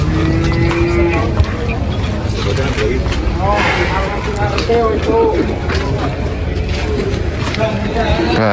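Cattle at an Indonesian livestock market low in mooing amid constant crowd noise and chatter, with people talking close by throughout.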